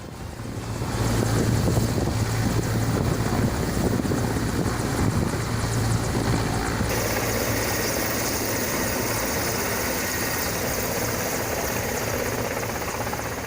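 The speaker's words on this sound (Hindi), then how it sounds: "इसके बाद वायुसेना का हेलीकॉप्टर पहुंचता है, उसकी मदद करता है।" An air force helicopter during a flood rescue thunders continuously for over ten seconds, its rotor chop steady and loud with wind buffeting the microphone.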